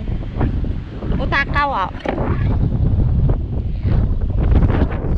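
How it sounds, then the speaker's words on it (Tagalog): Strong gusts buffet the microphone on an island shore beside the sea, a rough, roaring rumble that runs throughout, with someone talking over the wind. "Grabe, lakas ng hangin talaga."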